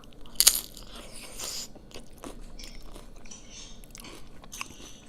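Loud crisp crunching bites into loaded cheesy nachos up close, one sharp bite near the start and then steady crunchy chewing with smaller crackles, no talking.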